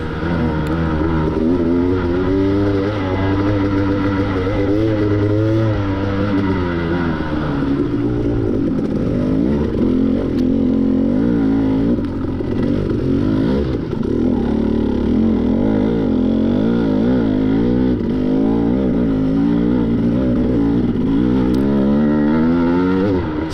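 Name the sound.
KTM 250XC dirt bike engine during motocross race lap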